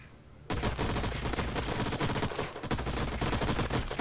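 Weapon fire in the video game Age of Wonders: Planetfall breaks out suddenly after a quiet start as a dense, rapid fusillade of shots. It is loud and sustained, with a brief dip midway, and no voices.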